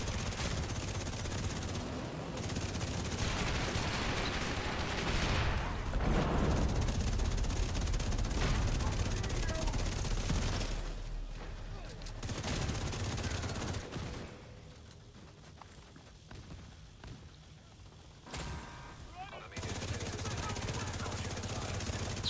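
Sustained automatic gunfire and overlapping bursts in The Division 2 during a team training operation, loud and continuous for long stretches, thinning into quieter gaps; squad voices talk over the shooting now and then.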